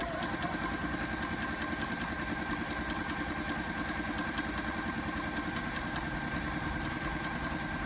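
A sewing machine runs flat out with the foot pedal pressed to the floor, a dense rapid mechanical chatter and hum that stays constant and close throughout.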